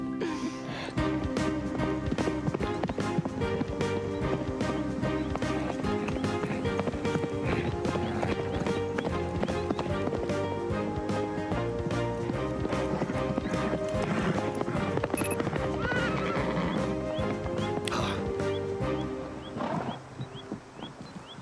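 Horses gallop with steady, continuous hoofbeats under a loud, dense layer of music, with an occasional neigh breaking through.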